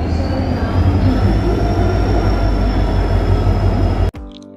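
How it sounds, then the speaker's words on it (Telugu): The Aastha special train bound for Ayodhya rumbles steadily at close range beside a station platform, a continuous loud mechanical drone with a faint high whine, cutting off abruptly near the end. "ఇదే నన్ను అయోధ్యకు తీసుకెళ్లే ఆస్థా ట్రైన్ అండి"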